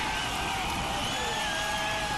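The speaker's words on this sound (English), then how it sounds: "the crowd went wild" A large stadium crowd at a 1999 college football game in Tuscaloosa roars after a last-second winning field goal, a dense, steady wash of distant cheering and whoops that fills the whole moment with no pauses.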